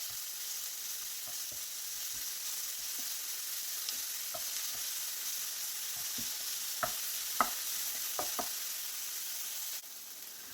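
Mussel thoran fries in a pan under a soft continuous sizzle while a spoon stirs it, scraping and knocking at irregular moments, with a few louder taps near the end.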